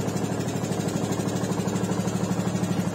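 Stihl Viking MR 385 ride-on mower's engine running steadily after a good start, a close, loud, even chugging drone with a fast regular pulse and no voices over it.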